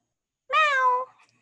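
A voice imitates a cat's meow in a preschool Lushootseed language class: one clear, drawn-out meow of about half a second, otherwise quiet.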